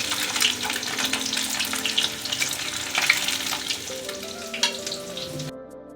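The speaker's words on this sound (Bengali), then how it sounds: "ভালো করে মাঞ্চুরিয়ানের বলগুলো আমি আরেকবার ভেজে নিচ্ছি" Chicken Manchurian balls fry a second time in hot oil, giving a dense, continuous close sizzle with occasional stirring clinks, then an abrupt cut to silence at the end.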